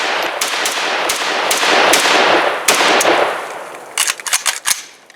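A SAN SG553R pistol in 7.62x39 fires at a shooting range: loud, sharp reports at a steady pace, then a fast tight cluster of shots near the end, with no talking.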